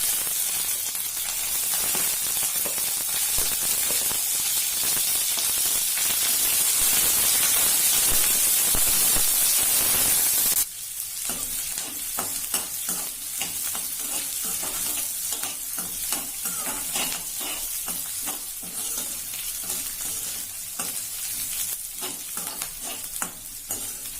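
Curry leaves, green chili and onion fry in hot oil for potato and green pea masala, a loud steady sizzle that drops sharply partway through after stirring, then crackles on unevenly.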